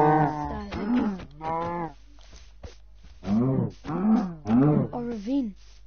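Several cows in Minecraft give drawn-out lowing moos, loud and close, coming in a run of calls with brief gaps between them.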